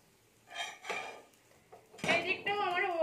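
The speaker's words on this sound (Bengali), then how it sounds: "এবার এটাকে আমি ঢাকা দিয়ে দিচ্ছি।" A lid goes onto a pan of a radish and yogurt snack, giving a few close metallic clanks and scrapes followed by a ringing clatter as it settles, with a faint voice briefly underneath.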